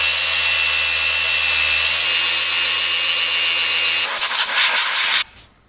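A power tool grinds steadily on a VW engine's flywheel housing to machine clearance, throwing out aluminum shavings. The whir is loud and close, shifts to a harsher tone near the end, then cuts off abruptly into quiet.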